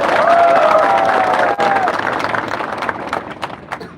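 A crowd at a first political rally for the Tipra Motha founder in Tripura claps and cheers loudly and steadily, with a few whistles near the start. The roar slowly thins out toward the end.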